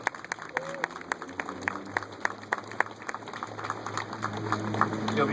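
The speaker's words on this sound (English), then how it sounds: "big round of applause?" An audience applauds at an outdoor Greenworks sustainability event in Philadelphia, with scattered claps building gradually under a steady background hum and faint crowd murmur.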